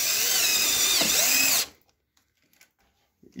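A power drill drives screws into a mosquito net frame, a loud, steady close-up whine lasting over a second and a half before cutting off abruptly into near silence, followed by faint handling knocks.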